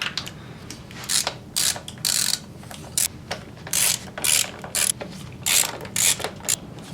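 A hand ratchet backs out 10mm valve cover bolts on a 1.7L SOHC Honda engine, producing close, fairly quiet bursts of rapid clicking pawl sounds in repeated short strokes with brief pauses between.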